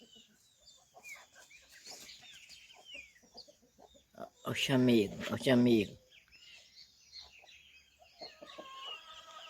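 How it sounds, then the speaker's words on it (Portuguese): A rooster on a rural farm lets out a loud, drawn-out clucking burst in the middle, standing out over faint background birdsong and quiet voices talking nearby. "É lindo esse galo, olha."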